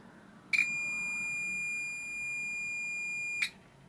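A Tenma 72-9385 multimeter gives a single sustained electronic continuity beep lasting about three seconds, steady and clear over a quiet background, with no talking.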